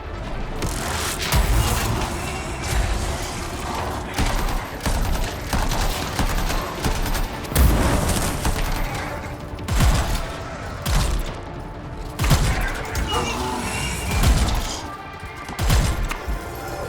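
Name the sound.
gunfire in the video game Anthem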